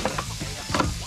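Blue swimmer crabs sizzle and hiss in a hot frying pan as they are turned, with a couple of soft scraping knocks over the steady fry.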